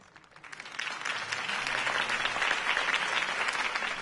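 A crowd bursts into applause at the end of a campaign speech, a dense, loud clapping that builds quickly from quiet and then holds steady with no talking over it.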